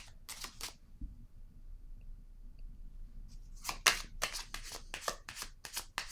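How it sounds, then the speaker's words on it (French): Kipper fortune-telling cards shuffled and drawn from a deck, soft riffling bursts near the start, a pause, then a run of sharp flicks and snaps close by, no talking. "je vais piger une petite carte du Kipper pour mettre dessus"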